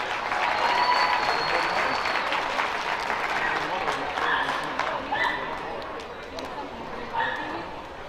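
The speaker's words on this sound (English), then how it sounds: "let's give these exhibitors a big round of applause as they exit the ring." Crowd applause for youth exhibitors leaving the livestock show ring at a county youth fair, a steady broadband clatter of clapping filling the clip, with dogs barking and yipping through it and voices underneath.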